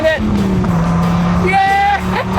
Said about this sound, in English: That dual overhead cam is singing.